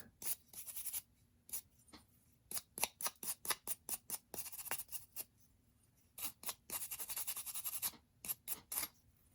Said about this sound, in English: So I'll start by brushing off this white crud.